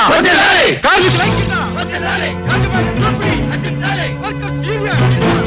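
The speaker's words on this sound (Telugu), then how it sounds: "విన్నావమ్మా కేకలు?" A crowd of workers shouts and chants together in a Telugu film scene, raucous overlapping voices at a distance, with a nearer voice speaking over the din.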